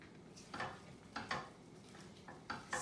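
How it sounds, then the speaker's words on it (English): Matzo brei, matzah soaked in egg, just starting to sizzle in a pan, heard as a faint low crackle broken by a few sharp scraping stirs and utensil taps. "starting to sizzle a little bit."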